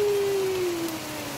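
Rain falls steadily in Bangkok, a soft, even hiss across the short stretch with a faint tonal hum in the background.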